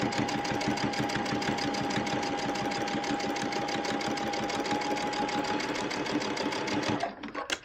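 A sewing machine runs steadily for about seven seconds, stitching a log cabin practice panel in a fast, even rhythm. It stops abruptly near the end as the stitching halts.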